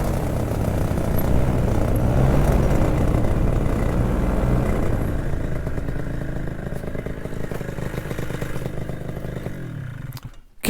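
A Miniplane paramotor with a Minari 180 engine revs hard under thrust nearby, a loud steady roar with clattering that holds for about ten seconds before cutting off abruptly near the end.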